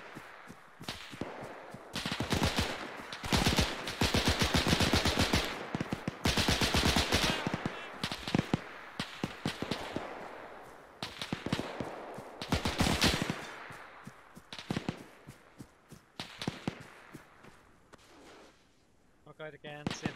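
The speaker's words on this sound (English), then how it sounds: "MG in the left corner." Machine gun fire in Arma 3, loud bursts of rapid automatic shots repeating in clusters with sharp cracks, interspersed with quieter gaps and occasional players talking.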